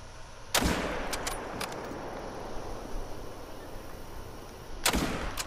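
Rifle shots in a hunting video game, one loud close crack early on, a few fainter shots soon after, then another strong shot near the end, with low outdoor game ambience between them.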